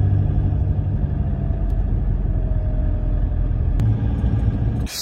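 A car drives up into the Bosnian mountains, giving a loud, steady low engine and road rumble from inside the cabin, with a couple of faint clicks and a sudden drop at the very end.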